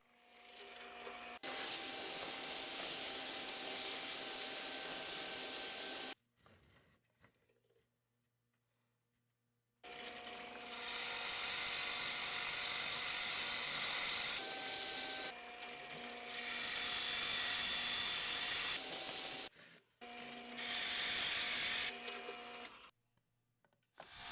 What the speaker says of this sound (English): Using a 2-inch Forstner bit, drill a hole at the top of each section marked with an X.